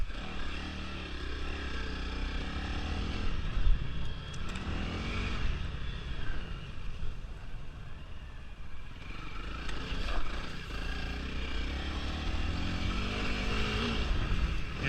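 A Honda CRF300L dirt bike rides hard along a wooded trail, its single-cylinder engine droning loudly and continuously, rising and falling as the rider works through third and fourth gear, with no talking.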